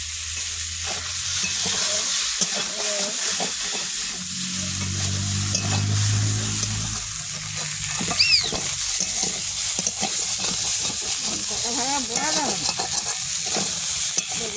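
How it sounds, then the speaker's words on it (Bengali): Neem leaves fry in hot oil in a home kitchen pan, giving a steady, close sizzle with intermittent stirring scrapes throughout, no talking. "এই ভেজে যাবে নিম পাতা"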